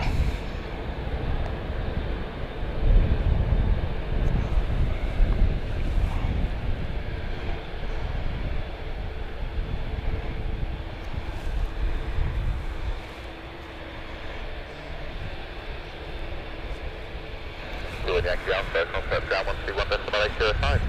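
An EasyJet airliner lining up on the runway at Gatwick Airport, a continuous deep jet-engine rumble heard from a distance, steady and loud throughout, with muffled voices in the background.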